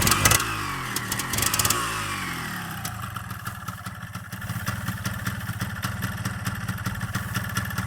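A Yamaha RXZ motorcycle engine blips and revs up close, then drops into a steady, rapid idle with a sharp, popping exhaust beat, and no talking over it.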